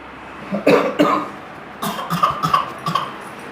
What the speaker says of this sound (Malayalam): ഇതെല്ലാവർക്കും ചുമയാണല്ലോ